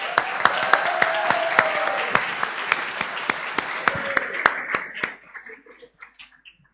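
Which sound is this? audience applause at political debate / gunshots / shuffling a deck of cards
audience applause at political debate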